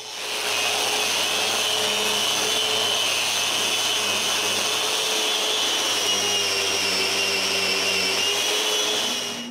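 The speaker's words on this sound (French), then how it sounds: "je peux sabler la partie qui sera à l'intérieur" A power sander works the inside face of a glued-up wooden workbench, a loud, steady whine running unbroken from start to finish.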